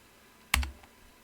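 A single sharp key press, like an Enter key struck on a computer keyboard while entering a Cisco router command, heard as one close click with a brief thump and then quiet.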